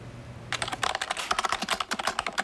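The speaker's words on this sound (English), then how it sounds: "Her fingers fly across the keyboard." Rapid, uneven clatter of keys on a computer keyboard, a child typing quickly in short bursts of close, crisp clicks, with no talking.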